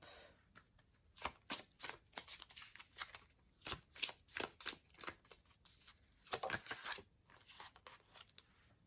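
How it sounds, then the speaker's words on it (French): Tarot cards are picked up and laid over other cards, making a series of quiet, close papery flicks, slides and snaps in uneven bursts with no talk. "On va recouvrir les cartes."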